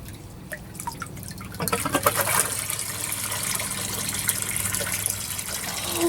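Water drains out of a drain pipe into a raft-bed filter setup, a dripping trickle that swells into a steady, close gush and keeps running.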